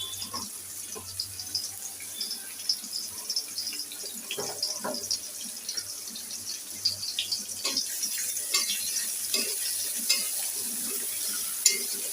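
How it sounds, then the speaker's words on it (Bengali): Chopped onions frying in a pan, a soft low sizzle broken by scattered clicks and scrapes of stirring, with a watery hiss underneath. "পেঁয়াজটা সুন্দর করে ভেজে নিচ্ছি"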